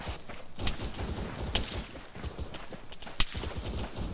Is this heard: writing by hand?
no